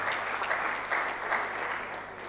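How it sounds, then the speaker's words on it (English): An audience at a distinguished lecture claps in a short, steady burst of applause, moderately distant and with no voices over it. "Please a round of applause for the people who have passed the comments."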